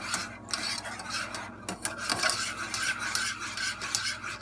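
A whisk scrapes briskly around a pot of thickening bechamel white sauce in a fast, steady rhythm of close, bright metallic rasping that runs throughout with no voice.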